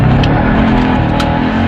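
Jeep Trackhawk launching hard on a street in a quick 0-to-60 drag pull, its engine roaring loud and close as it accelerates, a continuous heavy rumble with no talk.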